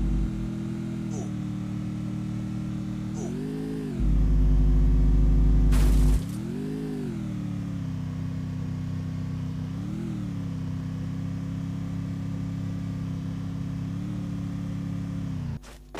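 A motorbike engine drones steadily while riding in Garena Free Fire, its pitch rising and falling in repeated surges as the throttle varies, with a player talking over it throughout.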